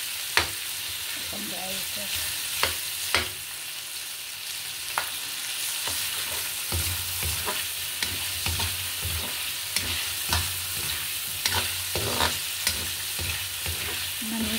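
Pechay sautéing in a pan with garlic, onion and a little pork, a steady frying sizzle broken by repeated sharp stirring clicks of a utensil, close by, with brief talk over it.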